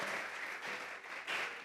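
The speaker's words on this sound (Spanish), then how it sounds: "Vamos a regalarle ofrenda de palmas al Dios Todopoderoso." A church congregation gives a short burst of steady applause during a Thursday Bible doctrine service, the clapping dense and evenly sustained, swelling slightly near the end, with no voices over it.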